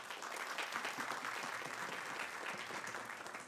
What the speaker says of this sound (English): If you guys can give her a round of applause.